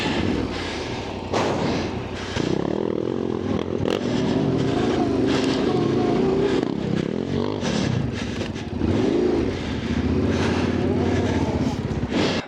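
Yamaha Ténéré 700 (T7) adventure motorcycle ridden hard off-road like a dirt bike, its engine revving and bursting loudly in choppy surges, mixed with wind buffeting and rider voices throughout.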